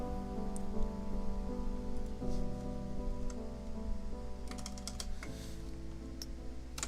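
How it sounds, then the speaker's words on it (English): Typing on a computer keyboard during a live game session, faint scattered clicks and taps layered over steady background music, with no voice present. "I'm typing in my little blurb here"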